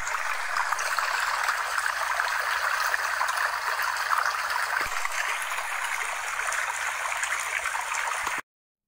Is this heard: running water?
yes